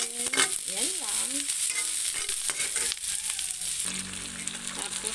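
Onions sautéing in a pan for a vegetable dish with sardines, a close crackling sizzle with stirring scrapes, partly covered by a tonal whistling sound early on.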